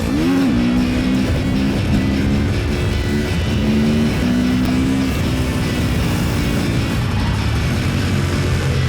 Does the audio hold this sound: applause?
no